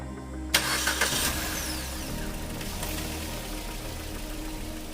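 A car engine cranks and fires up after clutch lining, pressure plate, pilot bearing and concentric slave cylinder replacement, a sharp start followed by a brief rev that settles into a steady idle.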